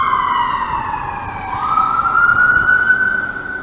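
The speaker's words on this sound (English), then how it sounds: "Putting on the siren right as I come back here." A loud emergency vehicle siren wails close by in Canada, its tone gliding and shifting pitch in a continuous sweep.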